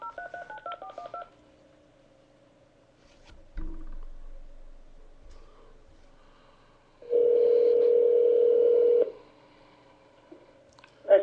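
A telephone call being placed back: a quick run of keypad dialing tones, then a quiet line, a soft thump, and a steady loud tone lasting about two seconds before fading into faint line noise.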